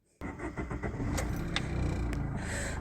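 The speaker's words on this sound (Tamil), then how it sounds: "நம்ம வண்டியை நம்ம ஸ்டார்ட் பண்ணுவோம்." A Maruti Ritz car engine cranks and catches after a brief silence, then settles into a steady, close idle with a few sharp clicks on top.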